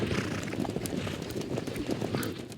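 Horses clip-clop in a rushing herd as roughly 150 ranch horses charge out of a gate toward their corral at sundown, hooves pounding continuously with an occasional whinny over steady outdoor noise.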